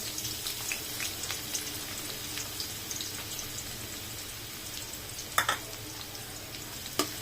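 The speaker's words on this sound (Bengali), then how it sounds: "পেঁয়াজটা একটু হালকা ভেজে নিব।" Chopped onions frying lightly in oil in a pan, a soft steady sizzle at low level with a couple of sharper knocks from stirring, no speech.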